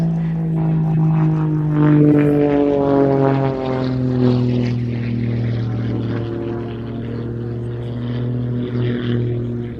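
A propeller aeroplane performing aerobatics at an airshow roars steadily overhead, its engine note droning and shifting in pitch as it climbs vertically and maneuvers, loud and continuous throughout.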